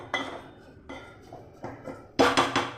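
Washed sushni greens are stirred in a cooking pot, with a spoon clanking against the metal in four or five distinct knocks, the last burst the loudest.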